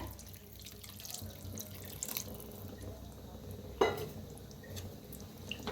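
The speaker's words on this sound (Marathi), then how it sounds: "गरम पाणी करून घेतले गरम पाणी ओतूया म्हणजे भाज्या लगेच शिजतात" Hot water is poured into vegetables in a pot, running and splashing steadily in a kitchen, with a brief louder slosh midway and faint clinks; no one speaks.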